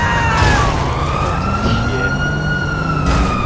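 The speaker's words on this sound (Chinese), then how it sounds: "还是尝试一下叫救护车" Wailing ambulance siren in the GTA 5 video game, called to Pillbox Hill after an explosion, rising and falling steadily and loud throughout, with a brief voice speaking over it.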